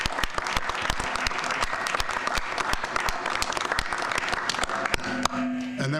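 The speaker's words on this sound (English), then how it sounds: "So first, I guess we'll start with a round of applause for Ken Ewer." A village board meeting audience gives a sustained round of applause, dense overlapping hand claps from a modest indoor crowd that tapers slightly near the end.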